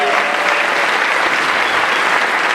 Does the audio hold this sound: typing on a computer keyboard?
no